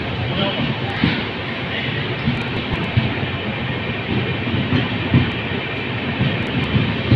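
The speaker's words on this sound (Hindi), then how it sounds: "ट्रेन चल रही है बस स्पीड में" A Jaipur Double Decker Express train running at speed between Alwar and Jaipur, heard from inside as a steady, loud rumble and rattle with faint rhythmic clicks of the wheels on the rails.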